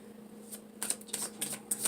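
Tarot cards shuffled in a few quick riffling bursts, close and fairly quiet, with brief pauses between the flutters and no talking.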